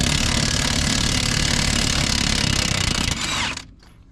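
Impact wrench with a 24mm socket and extension spinning a nut off a 1994-2004 Ford Mustang front suspension knuckle, a loud continuous buzzing rattle that stops abruptly near the end.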